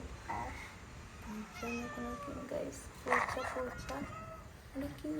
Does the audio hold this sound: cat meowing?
yes